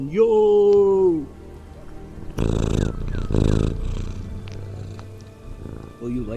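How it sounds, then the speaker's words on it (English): A pet cat purrs close by with a soft, steady rumble, and a brief meow-like tone comes at the start, alongside some background noise. "Look who's purring"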